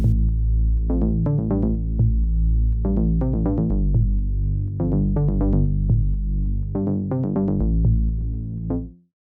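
A buzzy square-wave bassline pulses steadily, punctuated by punchy tom hits that fall in a looping rhythm before cutting off at the end.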